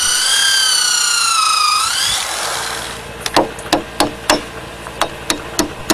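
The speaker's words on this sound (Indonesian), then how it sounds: "To secure the joints, drill holes and put in pins." Bamboo joints of a shelter frame in Indonesia take a series of sharp, evenly spaced knocks as pins are hammered in, following an earlier rising-and-falling whine that fits a drill boring holes.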